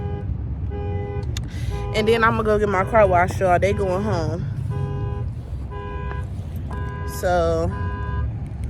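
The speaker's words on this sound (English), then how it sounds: "Somebody's alarm is going off." A car alarm sounds in a parking lot with repeating electronic tones and warbling sweeps, heard at moderate distance under someone talking close up.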